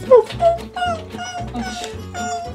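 A small dog whimpers and yips in high, wavering cries that repeat several times, close and fairly loud, with a steady low hum underneath.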